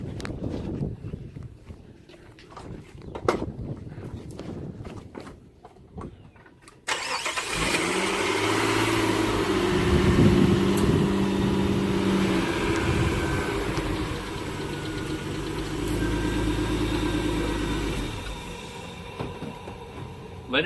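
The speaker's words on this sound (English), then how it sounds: "and now go start the vehicle." A car engine cranks and catches after a fresh oil change, then settles into a steady, even idle that carries on alone, close and moderately loud.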